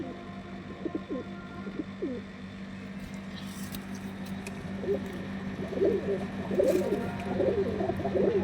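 Pigeons cooing in a loft where young birds are kept, low soft coos scattered under a steady hum, growing busier toward the end, with no talk.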